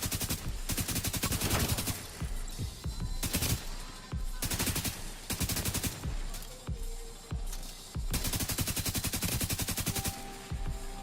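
Rapid gunfire in Tom Clancy's The Division 2, several loud bursts of fast automatic shots separated by short pauses, close and sharp, with no talking.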